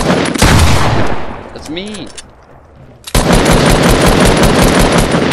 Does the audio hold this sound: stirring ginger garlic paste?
no